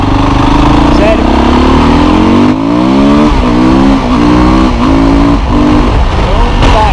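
Husqvarna 510 SMR carbureted motorcycle revving hard and accelerating up through several gears, its engine note rising and dropping at each shift, loud and close onboard, with a voice talking over the engine.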